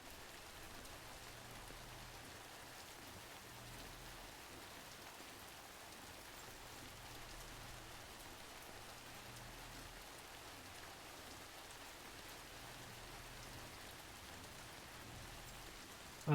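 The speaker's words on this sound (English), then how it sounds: "I like the sound of the rain." Steady rainfall in the video game Death Stranding patters evenly on surfaces, soft and distant, with a low looping hum underneath and no voices.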